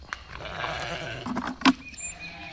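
Sheep on a farm bleat nearby, with one clear wavering call followed by a short sharp cry and light rustling in the background.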